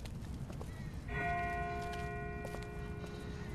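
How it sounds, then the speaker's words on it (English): Distant church bell ringing in the video game The Walking Dead, a single faint, resonant toll that rings out and slowly decays over a quiet background. "That's not the same bell as before. This one's further off."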